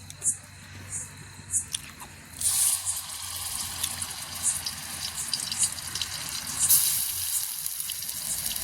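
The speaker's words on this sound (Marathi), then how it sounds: "मी आता मसाला टाकायचा आहे, परतून घ्यायचा।" Masala sautéing in a pan over a wood-fired chulha for chicken, after a ground paste of coconut, rice, ginger, garlic and coriander, giving a steady soft sizzle with a few louder bursts and faint background voices.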